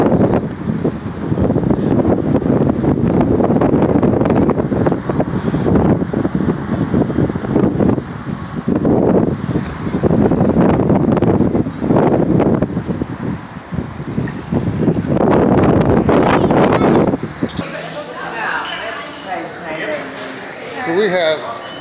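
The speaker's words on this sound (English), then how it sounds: "The wind is blowing, so we'll make this real quick and be quiet." Strong gusty wind buffets the microphone outdoors at a roadside cheese shop in Wisconsin, a loud continuous rumble that swells and eases, dropping away near the end.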